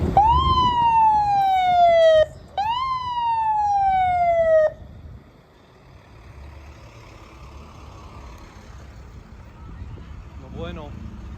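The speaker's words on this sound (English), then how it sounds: "Ambulance on the way." An ambulance siren sweeps downward twice in loud repeated wails at a car show, then cuts off, leaving quieter traffic noise and a faint warbling tone near the end.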